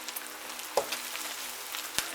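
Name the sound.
crumbed pork chops frying in an electric fry pan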